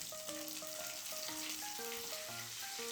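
Ground tomato paste sizzling and frying steadily in a hot pan of garlic and onion for chana masala with paneer, a continuous close crackle with light stirring.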